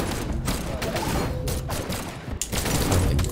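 Uzi fire in the fighting game Brawlhalla, dense rapid bursts of gunfire crackling continuously with brief gaps, loud and close throughout.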